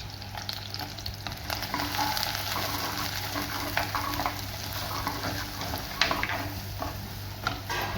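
Cinnamon pieces with crushed ginger and garlic fry in a hot pan, a steady, dense sizzle with occasional stirring scrapes throughout, close and loud with no talk.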